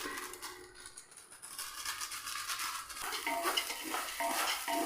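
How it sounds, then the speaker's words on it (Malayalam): A spoon stirs rice with mandi masala around a pot, scraping and clinking against the metal in a steady, close rhythm over a faint sizzle from the pan. "നല്ലപോലെ ഒന്ന് കൂടെ ഒന്ന് മിക്സ് ചെയ്തെടുക്കാം"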